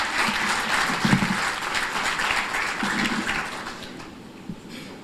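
An audience at an alumni day ceremony at INP-HB claps in sustained applause, dense and fairly loud, slowly thinning toward the end.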